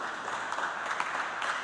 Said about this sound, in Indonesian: Pasti mereka masih punya, tepuk tangan dulu.